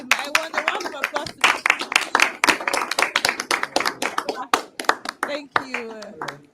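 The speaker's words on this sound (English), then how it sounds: "I want a round of applause" Audience at a conference clapping in a sustained round of applause, dense overlapping hand claps with voices talking and calling out over them.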